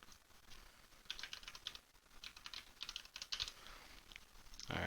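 Rapid bursts of typing on a computer keyboard while entering a Wi-Fi password during Raspberry Pi setup, soft clustered key clicks in uneven runs, fairly quiet and close, with no voices.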